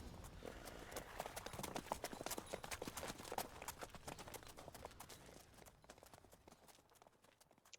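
A horse gallops in The Witcher 3, its hooves making a fast, steady clip-clop that stays fairly close and fades slightly toward the end, with no talking.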